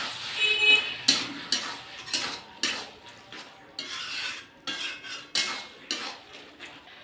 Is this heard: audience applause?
no